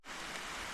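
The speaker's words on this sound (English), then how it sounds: "Absolutely hammering it down, horrendous, slippy, wet, muddy trails" Heavy rain pours steadily on a wet, muddy mountain trail during a Swiss ultra race, a dense continuous hiss close to the microphone with no voices.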